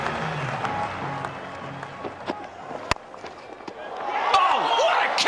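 Cricket crowd applauding an extraordinary innings, the fastest hundred by a New Zealander, sustained stadium clapping and cheering with a commentator talking over it and a sharp bat-like crack midway.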